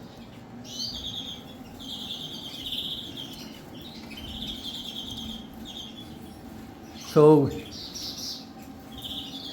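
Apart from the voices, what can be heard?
canaries chirping in aviary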